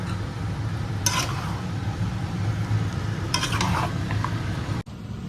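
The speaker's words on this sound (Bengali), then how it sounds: "মাংসের মশলা কষা হয়ে গেছে এবারে দিয়ে দেবো মাটনটা" Spice masala for mutton is stirred and fried in a pan, with a continuous low sizzle broken by sharp scraping and clinking strokes of a spatula close up.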